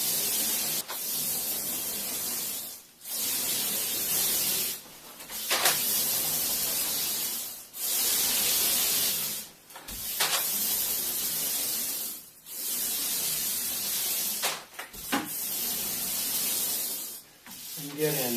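A paint roller rolls paint onto a house wall in long, steady strokes, each a broad close rasping hiss lasting about two seconds with short gaps between passes, repeating rhythmically with no talking.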